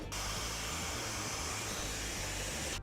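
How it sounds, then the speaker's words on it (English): A hair dryer blows continuously onto a Galaxy Note 7 phone, a steady loud whooshing roar that starts abruptly and runs without a break. "So what if we blast it with a hairdryer?"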